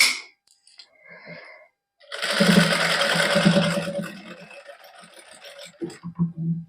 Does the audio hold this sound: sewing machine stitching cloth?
yes